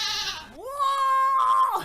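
A goat bleat sound effect: one drawn-out, wavering nasal cry that rises, holds steady and then drops off, heard alone.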